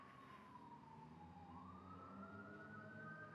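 Fire engine sirens far off outdoors, a faint wailing tone that sweeps down and then climbs again over a low background rumble, with no voices.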